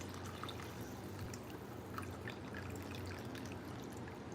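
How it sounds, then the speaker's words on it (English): Tea being poured into a measuring cup at home, a steady liquid stream trickling and splashing continuously throughout at moderate, close level with no talk. "I'm going to pour my tea in this measuring cup to make it a little bit easier to pour into our pitcher."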